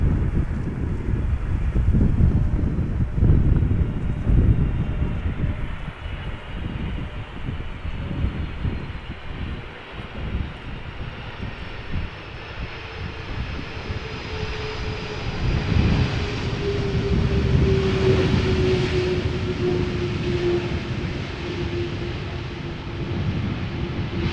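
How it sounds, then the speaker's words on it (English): An Icelandair jet arrives at Amsterdam Schiphol in gusty crosswind, a sustained roaring engine pass with a rising whine, heavy wind buffeting on the microphone throughout. "Icelandair flight 500 arriving from Reykjavik in Iceland after flying 2 hours and 44 minutes"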